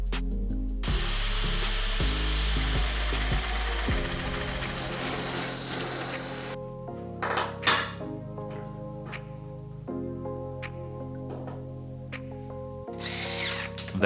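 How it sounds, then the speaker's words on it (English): A power drill whines loudly in bursts, spinning up and biting through material, with pauses and short tool clatter between drilling runs. "I was ready to drill the needed holes."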